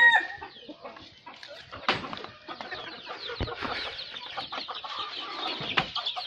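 Chickens on a poultry farm keep up close, busy clucking and chattering, with a few sharper squawks and knocks in among the flock.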